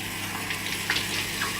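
Water from a tap rinsing out a blender jar after making green juice, a steady close gush with small splashy fluctuations, no talking.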